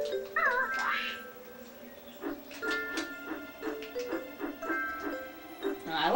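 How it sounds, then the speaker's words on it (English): A cartoonish cat meows in the snowy Snowflake Lake level of the game Banjo-Kazooie, a few short wavering cries over the game's background tune. "Cat."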